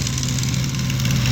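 John Deere 3020 tractor engine running steadily on a farm, a continuous low diesel drone with a strong, even rumble throughout and no talk over it.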